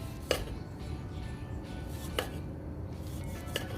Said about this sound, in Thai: ลูกหนึ่งหั่นแว่นบางๆนะคะ